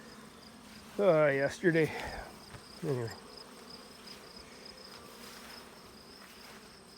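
Honeybee drones buzz around a backyard beehive in its first year, a faint steady hum that continues behind a brief stretch of nearby talking.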